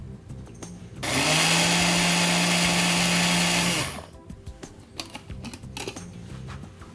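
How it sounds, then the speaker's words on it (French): A blender whirs loudly for about three seconds, mixing chopped garlic, then stops, leaving clicks and kitchen handling noises. "Donc maintenant, faut le mixer."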